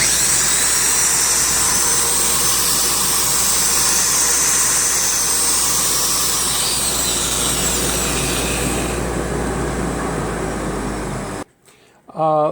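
A loud, steady mechanical whine of a power drill running continuously for about eleven seconds, then cutting off abruptly, followed by a brief moment of quiet.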